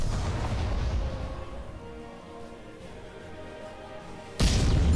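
Spaceship weapons in the Freespace space combat game: a loud rumbling barrage that eases into a steady hum with faint tones, then a sudden heavy blast near the end.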